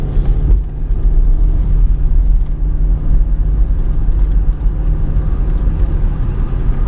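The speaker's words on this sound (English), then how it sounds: "Let's see how we go up this ramp here. I'm on a bit of an incline. Give it a little gas." A 2005 GM car with a 4T65-E transmission accelerating up an inclined highway ramp, heard from inside: a loud, steady low engine and road drone that continues throughout without break.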